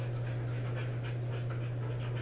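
Pet dogs pant in quick, soft, rhythmic breaths, with faint whimpering, close by and steady above a low electrical hum.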